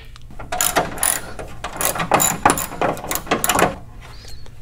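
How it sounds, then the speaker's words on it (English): A 10 mm ratchet clicks in rapid bursts while backing bolts off a Hummer H3, the loud, close pawl ratcheting repeating in several runs with brief pauses between. "Go ahead and take our 10 millimeter and work on getting all 6 bolts out."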